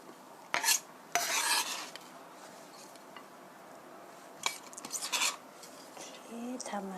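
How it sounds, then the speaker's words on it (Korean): A knife cuts through broccoli for broccoli spaghetti, giving a few close, rasping strokes in short bursts separated by quiet pauses. "칼을 약간 넣으시고 살짝 살짝 이렇게 해서 담아주시고요"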